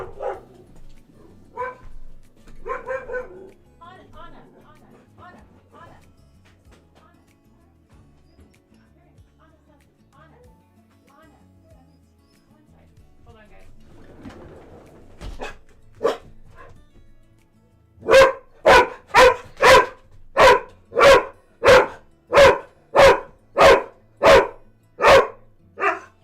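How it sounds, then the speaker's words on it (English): A stray dog barks in a city-building game, with ten or so loud, evenly spaced barks in a steady run near the end, after scattered quieter game sounds and brief vocal bits. "Stray dog. Definitely not a cat bark."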